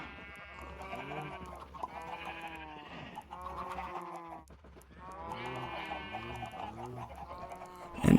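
Chickens clucking in Minecraft with the Roost mod, two bursts of rhythmic, nasal clucks separated by a brief quieter gap, fairly clear and not under talk.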